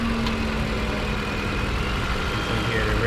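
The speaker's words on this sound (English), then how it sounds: "You can hear the rev going up and down." A Chevrolet Malibu idling roughly with a poor idle and stalling trouble, a steady low engine drone that wavers slightly as the revs drift up and down, heard close with no one speaking.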